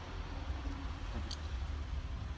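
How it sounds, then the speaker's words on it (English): A UPS delivery truck drives past outdoors as a steady, low, broadband rumble. It sounds fairly faint and distant and holds level throughout, with no voices. "Apologize for the noise. UPS man just driving by."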